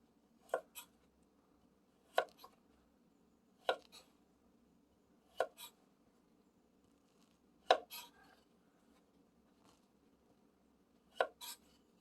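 Knife cutting food into a pentagon shape on a board, with about seven sharp, separate cuts, each followed by a softer tap, spaced a second or two apart in a quiet room.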